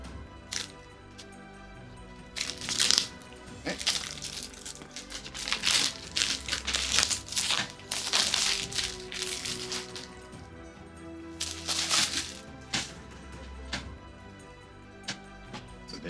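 Plastic shrink wrap crinkles and tears off the Daggerheart Collector's Edition game box, in bursts of crackling and rustling with quieter pauses between, close and fairly soft.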